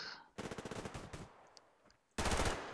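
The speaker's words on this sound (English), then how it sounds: "You shot me in the face." Bursts of automatic gunfire from the Survarium shooter game: a rapid rattling volley, a few scattered shots, then another loud, dense burst at the end.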